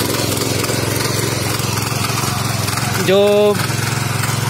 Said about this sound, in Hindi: तो देखिए दोस्तों ट्रैक्टर से कैसे बाया जाता है